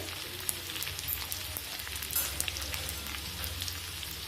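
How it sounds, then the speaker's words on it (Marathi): Green chilies and grated ginger sauté in hot oil, giving a steady close-up frying sizzle with fine crackling and occasional spatter pops, continuous and even throughout without any talk. "आलं पण छान परतले आणि मिरच्या पण मस्त परतल्यात बघा तेलात"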